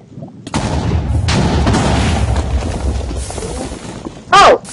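TNT blows up during mining in the Minecraft video game with a sudden deep rumbling blast that trails off into crumbling debris, followed by a brief sharp burst near the end.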